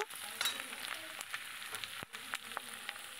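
Amodi fish chorchori with onion is stirred in a frying pan: a quiet sizzle with scattered scraping clicks of a spatula, one brief pause midway, and no voices.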